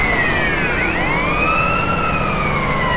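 Police car siren in Grand Theft Auto San Andreas, a loud continuous wailing tone sweeping up and down, alone and close throughout.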